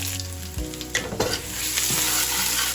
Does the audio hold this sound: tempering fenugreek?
yes